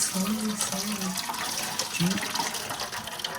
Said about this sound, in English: So we're gonna drain some of that off so that we can mix in our tomato paste and our seasonings and finish this up.